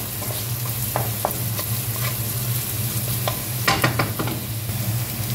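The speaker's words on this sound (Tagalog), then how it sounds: "Gigisa lang po tayo ng sibuyas para sa sauce ng ating" Onions sauté in a pan for a sauce, giving a steady close sizzle with sharp scraping stirs at irregular moments and a louder burst of spatula clatter near the end, with no voices.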